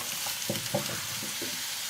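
Leeks fry in hot olive oil with a soft, continuous sizzle and a few louder crackles and stirring bursts, heard alone at moderate level.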